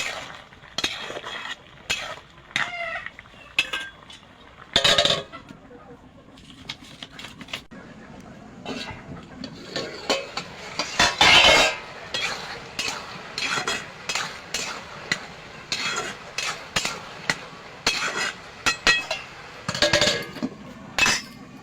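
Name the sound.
lifting pan lid and stirring cooking radish fry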